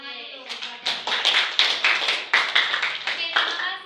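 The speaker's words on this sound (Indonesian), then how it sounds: "Oke, tepuk tangan dulu." A classroom group claps in loose bursts, the sharp hand strikes rising and falling in uneven waves close by, while voices chatter over them.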